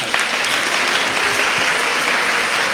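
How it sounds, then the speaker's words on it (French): Audience at a Saturday-evening praise gathering applauding steadily and loudly throughout, dense continuous clapping with no pauses. "tu vas tourner vers ton voisin et puis tu vas l'applaudir"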